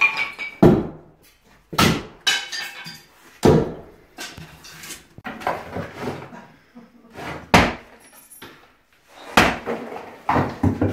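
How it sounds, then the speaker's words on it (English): A kitchen being smashed apart during a demolition soft strip, with repeated loud thuds, bangs and clattering impacts arriving in irregular bursts, close by, with brief pauses between blows. "It's Luke smashing up the kitchen."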